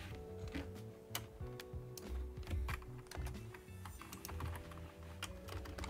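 Close, quiet clatter of fingers typing on a computer keyboard, irregular bursts of key clicks continuing steadily over a soft background hum.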